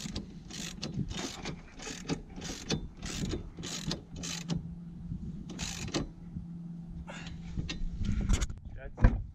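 A 17mm socket wrench ratchets a lock nut on a strut bar in a Subaru WRX, with rapid clicking strokes in quick bursts, pauses between them and a faint hum underneath.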